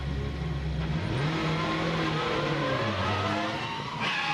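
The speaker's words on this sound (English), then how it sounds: "Franz Engstler gets into the back of Ivan Muller, and everybody piles in behind him." Touring car engines roar and shift pitch during a multi-car pile-up on the Macau street circuit, a loud continuous drone with falling and rising tones and a brief rasping burst near the end.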